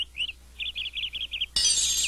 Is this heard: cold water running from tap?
no